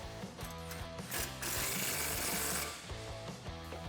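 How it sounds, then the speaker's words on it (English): A ratchet or impact gun tightens a rear shock bolt on a 2005-2014 Mustang fitted with lowering springs, a close, rattling mechanical burst that swells loudly in the middle and then eases back to a steady buzz. "grab your socket and your impact gun or your ratchet and tighten that down"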